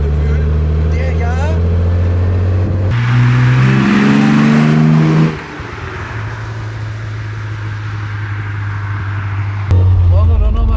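A 1970 Maserati Mistral Spyder 4000 sports car engine hums loudly while driving, swelling in a brief acceleration then settling to a steady cruise, with a person talking over it.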